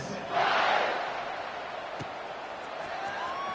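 Football stadium crowd at a Texas versus Notre Dame game roaring in a broad, sustained wash, swelling early then settling into a steady, distant-sounding din.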